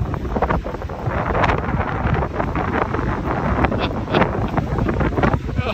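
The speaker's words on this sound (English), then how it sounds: "It is windy." Gale-force wind buffets the microphone on a beach in a constant loud rumbling roar with gusty surges and no break, surf washing faintly underneath.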